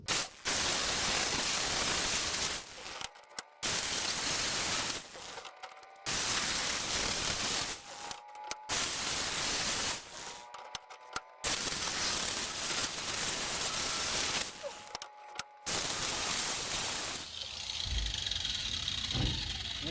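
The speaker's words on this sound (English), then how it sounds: "I'm going to sand down the poles that hold the handles and the bed." Metal wheelbarrow poles clamped in a vise are sanded or ground in long loud bursts, about six passes separated by brief pauses, each a steady abrasive roar with faint whining tones. A softer hiss closes the run.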